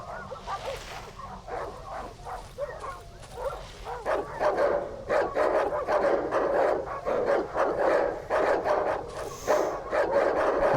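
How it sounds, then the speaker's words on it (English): A pack of dogs barks and yips in barn ruins in the horror video game Darkwood, with rapid overlapping barks at a moderate distance that grow louder and denser through the second half, with no talk. "Lots of dogs, or the sound of dogs around here."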